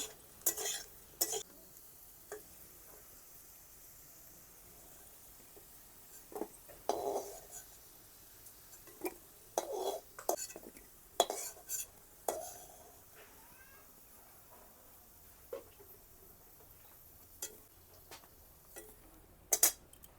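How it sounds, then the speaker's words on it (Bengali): Potatoes fried red in oil in a pan are stirred and lifted out with a spatula, giving a faint background sizzle punctuated by scattered sharp metallic clinks and scrapes, close and without talk. "আলুগুলো লাল লাল করে ভেজে নিয়েছি, এখন নামিয়ে নেব"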